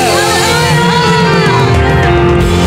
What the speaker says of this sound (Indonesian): Mari berikan sorak-sorai kemuliaan.